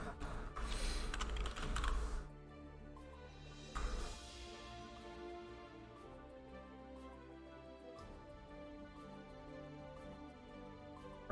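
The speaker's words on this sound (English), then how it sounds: "I know you guys hear me typing too." Keys clatter on a computer keyboard in quick, irregular bursts of close clicks, with louder clattering near the start and lighter taps continuing over a low background hum; no one speaks.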